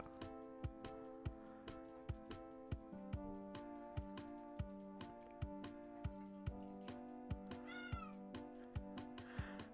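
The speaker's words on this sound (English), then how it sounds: "Hopefully you guys can't hear that cat in the background." Cat meowing repeatedly in the background, a loud, insistent yowl over a steady rhythmic musical backing with regular beats.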